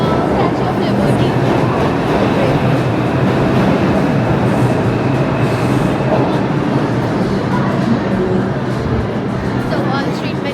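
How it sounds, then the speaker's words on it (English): A metro train at Wall Street station produces a loud, steady rumble with a constant rattling roar that fills the platform, along with faint, indistinct background voices. "The Wall Street Metro station."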